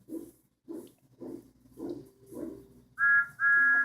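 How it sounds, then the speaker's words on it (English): A steam train whistle effect in a Thomas the Tank Engine children's story comes after a run of soft, low rhythmic chuffs, sounding as two loud, steady high blasts close together at the end. "Then he heard a whistle."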